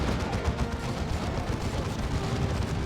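Land Raider Crusader tank from Dawn of War II: Retribution firing its Hurricane Bolters and Assault Cannon, a dense continuous rattle of rapid gunfire and blasts in a chaotic battle.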